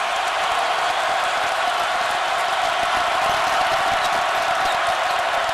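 A basketball arena crowd at a Kansas Jayhawks versus Missouri Tigers game cheers loudly, a dense, steady roar of voices with no breaks that fills the whole stretch.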